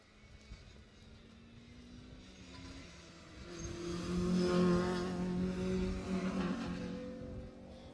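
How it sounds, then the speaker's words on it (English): Rally car engines rise from a distant drone to a loud roar as the cars pass close by, then fade away again, with no voices. "Car 58 and car 60 coming through together"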